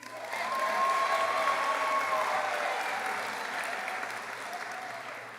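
Sustained applause fills a graduation ceremony for a 2023 high school class at Saint Joseph Academy in Hammonton, New Jersey, a broad crowd clapping steadily and loudly before slowly tapering off.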